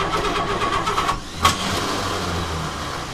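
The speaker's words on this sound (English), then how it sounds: "Sounds like our starter is disengaging." A 1952 Chevy Bel Air engine cranks steadily on its starter without catching, then the starter lets go with a brief whirring spike, followed by a lower mechanical drone.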